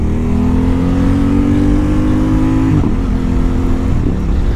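A 2024 Aprilia RS660 sport motorcycle engine pulls hard under acceleration, a loud steady rising drone with a brief dip near the end, as on a quickshifter change, heard alone.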